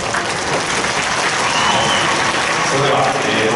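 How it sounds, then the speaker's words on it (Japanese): A crowd applauds at the end of a mascot talk show for the Chunichi Dragons mascot Doala's 25th anniversary, a loud, dense, continuous roar of clapping filling the hall without pause. "ドアラスパッドを大きな拍手で送りたいと思います"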